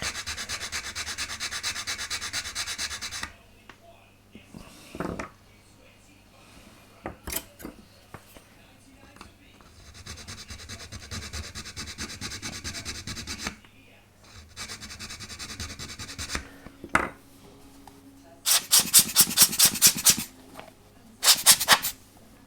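Scraping, rubbing trims at the top rail of a Vanguard Models HMS Sherbourne wooden ship model, close and moderately loud, in uneven strokes with short pauses and a few sharper bursts near the end.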